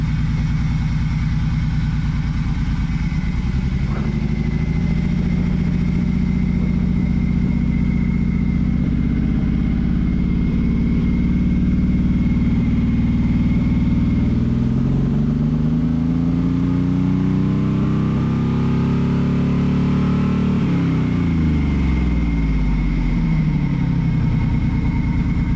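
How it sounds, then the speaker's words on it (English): A loud, close Ford Shogun engine runs rough and misfires on a test drive, droning steadily as it accelerates and shifts with rising and falling pitch, a slightly uneven note throughout and no talk. "Running a little rough. It's kind of misfiring."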